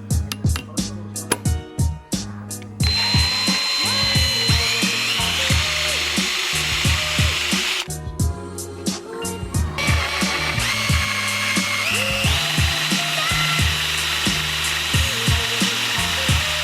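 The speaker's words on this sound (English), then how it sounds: "we have to drill some new holes for the power steering pump and the alternator bracket" A power drill bores new holes in a steel bracket for a power steering pump and alternator in a workshop, with loud sustained whining runs broken by short bursts of rapid tapping and clatter.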